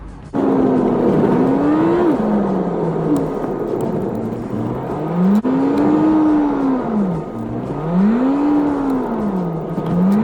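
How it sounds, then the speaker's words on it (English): An Alfa Romeo Giulietta engine hums steadily and rises and falls in pitch as it accelerates and shifts through gears, heard from inside the moving car on a test drive with no talking. "let's just take it for a quick test drive"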